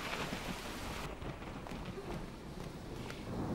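Steady rain pours down in an animated episode, a dense hiss of falling drops with faint rumbling beneath, continuous and fairly quiet throughout.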